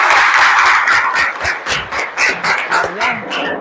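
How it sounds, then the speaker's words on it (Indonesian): Applause from a group of students in a classroom starts as dense, loud clapping, then breaks into rhythmic, patterned claps in unison. "Tepuk tangan untuk kita bersama."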